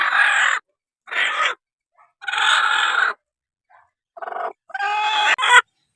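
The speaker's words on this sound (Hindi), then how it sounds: "इस टाइम जो है मुर्गी फुल गुस्से में है" A broody hen sitting on fourteen eggs clucks agitatedly in several harsh bursts with short pauses, ending in a louder squawk, close by and alone.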